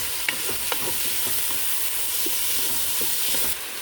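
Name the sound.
garlic and tomato frying in hot olive oil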